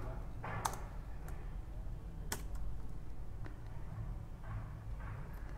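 HTML code being typed on a computer keyboard: soft, close key clicks in uneven bursts over a faint steady background hiss, with a few sharper taps standing out.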